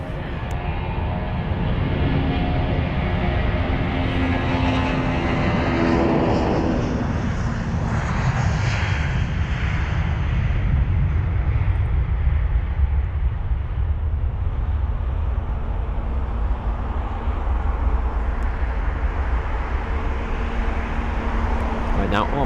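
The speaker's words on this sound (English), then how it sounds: "Now off that MEA aircraft goes." A Middle East Airlines jet departing London Heathrow roars loudly and steadily with broadband engine noise, its tone shifting as it climbs away, with faint talk in the background.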